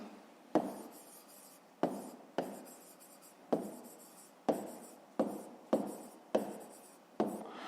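Pen on paper as a numeric answer to a fifth-grade math exercise is written by hand, a series of about nine short scratching strokes, each starting sharply and fading, close and fairly quiet with no talking.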